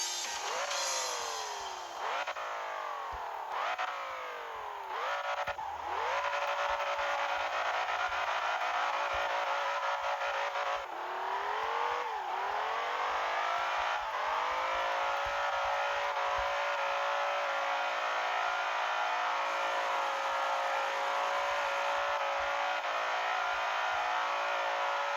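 A BMW M5 in the racing game Assoluto Racing drifts around a circle course, the engine revving up and down in repeated swoops over a continuous tire hiss, loud and close with no talk.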